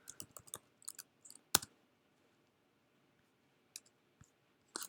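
A handful of faint, sparse clicks on a computer keyboard, a few quick taps in small clusters with long quiet gaps between them.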